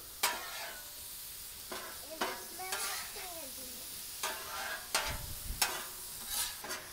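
Sweet apples sizzle and caramelize on a Blackstone griddle, with a steady close frying hiss broken by several sharp scraping and stirring strokes of a spatula on the flat-top.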